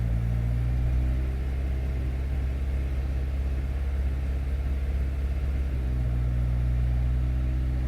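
A car engine idles steadily right after starting, a continuous low rumble with a smooth, even hum that holds for several seconds with no voices.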